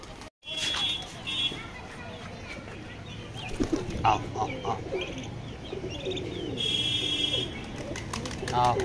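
Native desi chickens and growing chicks being fed and watered in their pen give soft, scattered calls and coos, mixed with rustling and someone talking over them.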